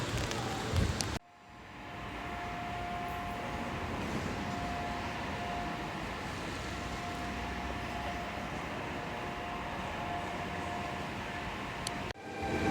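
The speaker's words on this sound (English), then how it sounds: "I just arrived at the train station" Steady rumbling ambience at a train station in Trieste, a constant low roar with faint tonal hum, continuous and moderately loud.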